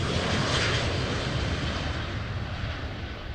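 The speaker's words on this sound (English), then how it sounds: "Kind of a late lift off." An airliner lifting off at Amsterdam Schiphol Airport in a strong headwind, its engines a loud, steady broadband roar that fades slightly as it climbs away.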